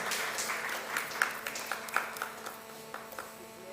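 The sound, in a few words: applause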